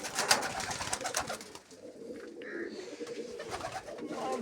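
Soft, repeated cooing from domestic pigeons held for sale by a hobby breeder, close and fairly quiet against a steady background murmur.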